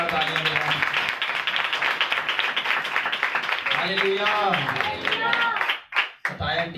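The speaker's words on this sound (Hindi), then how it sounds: "नए मेंबर के लिए जोरदार तालियां बजाएं।" A church congregation claps warmly for a new member, sustained applause mixed with loud cheering voices, and someone calls out in praise over it.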